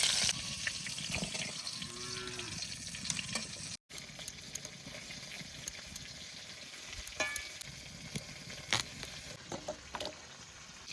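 Magur catfish pieces frying lightly in hot oil, a steady close sizzle with sharp crackles and pops throughout, including a brief dropout partway through.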